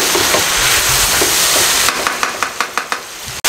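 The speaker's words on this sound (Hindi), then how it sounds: "इसको मैं 3 से 4 मिनट मज़ीद भुनाई कर लूँ" Beef fries with ginger-garlic paste in a karahi, first as a loud, dense hiss, then with a run of evenly spaced stirring knocks and scrapes over the sizzle.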